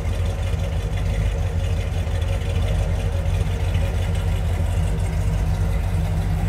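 A 1967 Dodge Coronet R/T with its 426 Hemi idles from behind the car, giving a steady, deep low rumble that holds unbroken throughout.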